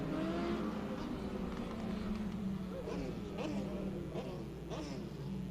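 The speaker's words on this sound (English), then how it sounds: "the 81 and the 44 White just go right by that 27P of Patterson" Race cars, including the 81 and the 44, sweep past on a track, their engines rising and falling as several cars go by in quick succession over a constant low rumble of other engines.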